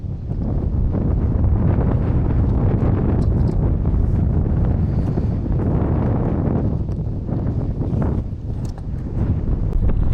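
Strong wind roars and buffets the microphone steadily for the whole stretch at an outdoor float-fishing spot for crucian carp, a dense low rumble with gusty swells.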